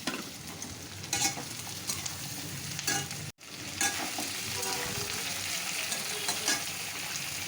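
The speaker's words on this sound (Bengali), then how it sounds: "এবার এই আলুগুলো দিয়ে দেবো।" Potatoes and onions fry in a pan for a tangra fish curry, a dense continuous sizzle with stirring scrapes and clatter, close-up, briefly dipping to near silence before the hiss resumes.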